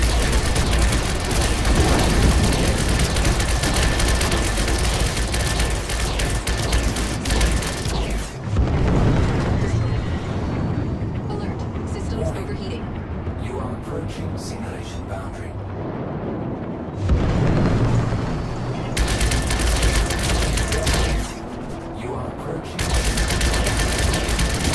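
Missile fire in a video game arrives as dense, loud barrages of blasts and rumbling booms with short quieter gaps between volleys, filling the mix.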